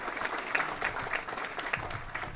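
An outdoor crowd at a ship's grand opening and recommissioning claps steadily, a moderate-sized audience at a short distance producing dense, even clapping that carries on without a break.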